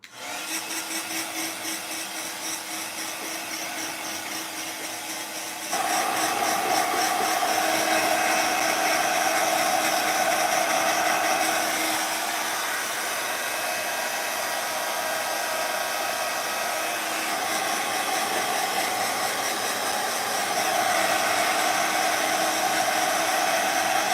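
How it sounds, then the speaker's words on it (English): A heat gun set on low blows steadily over an embossing folder, a loud continuous whirring rush with a shift to a fuller, louder tone after several seconds that then holds alone. "But I really want to hit it with a heat gun"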